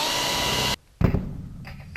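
Power drill boring small relief holes in aluminium sheet on a Zenith CH701 rear fuselage, a loud steady whine that stops abruptly, then a short burst of drilling and softer workshop noise.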